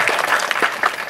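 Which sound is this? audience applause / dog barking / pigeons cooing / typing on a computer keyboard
audience applause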